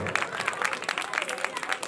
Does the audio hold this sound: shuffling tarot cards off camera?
no